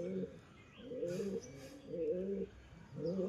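Pigeons coo nearby in a home loft, with low, rolling calls repeating in a steady rhythm about every second and faint chirps above them.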